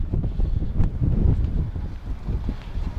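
Strong, gusty wind buffets the microphone outdoors at a used car market, a low rumbling roar that rises and falls in uneven bursts for a few seconds.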